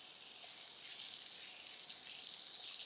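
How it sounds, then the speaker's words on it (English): Bubbling sunscreen cream fizzes and crackles as it is spread over skin, a fine continuous hiss of tiny popping bubbles, close and steady with no talk. "when you apply the product on your skin you can hear the bubbles crackling"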